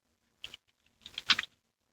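Keys tapped on a computer keyboard: a short pair of clicks followed by a quick cluster of several keystrokes, close and fairly quiet, while logging in on a game login page.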